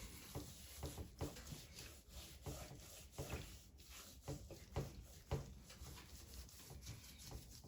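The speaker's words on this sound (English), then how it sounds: "We're basically just gonna rub it in." Hog meat rubbed by hand with seasoning gives a close, soft wet rubbing and scrubbing, steady uneven strokes with small slaps and squelches, no voices.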